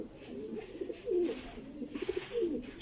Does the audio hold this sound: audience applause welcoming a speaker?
no